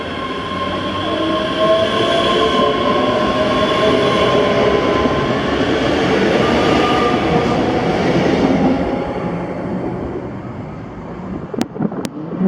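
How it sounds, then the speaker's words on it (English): A Scottish passenger train at Paisley Gilmour Street station rumbles loudly and continuously past at close range, wheels and motors roaring before the sound thins out, with a couple of sharp clicks at the end. "the 1306 Scottish service to Gilmour from Glasgow Central"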